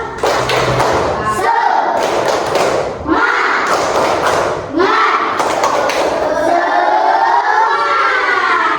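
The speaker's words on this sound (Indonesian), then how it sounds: "Kita tepuk semangat dulu" Children in a classroom perform a rhythmic chanted clapping routine, sharp claps and thumps landing in groups between sung, chanted lines, close and loud.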